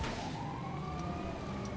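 A police siren wailing in GTA V, a steady rising-and-falling electronic tone that carries throughout under a low rumble of traffic and street noise, with no voices.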